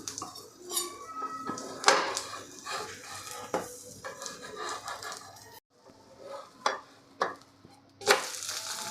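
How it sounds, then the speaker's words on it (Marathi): Cucumber thalipeeth is oiled and flipped on a pan: close metallic clinks and scrapes of a spatula against the pan over a soft sizzle, with a brief quiet gap before more clatter. "यावरती आपल्याला तेल लावून घ्यायचं आहे आणि त्यानंतर आपल्याला हे पलटवून घ्यायचं आहे"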